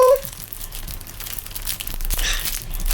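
Crinkling, tearing rustle as a stuck paper craft item is pulled loose from its glued backing, close up, with a brief voice at the start.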